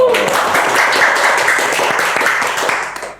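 Campus audience at a QRIS event clapping for a Millennial ambassador from Bank Indonesia Purwokerto, a lively burst of many hands close by with a brief voice at the start, tapering off at the end.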